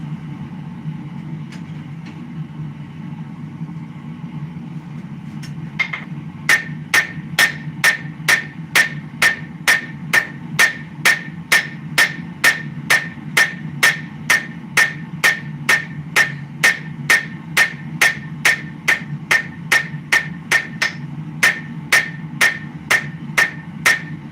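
Steel being hand-forged into a rose and a cross on a farrier's anvil, loud ringing hammer blows starting after a quiet stretch and then falling in a steady, evenly spaced rhythm over a low background hum.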